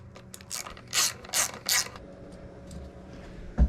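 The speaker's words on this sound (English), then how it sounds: "I'm going to grab a ratchet and an extension." A ratchet with an extension tightens bolts on an Evinrude 75HP three-cylinder two-stroke outboard carburetor, several quick close clicking bursts in a row, then a single thud at the end.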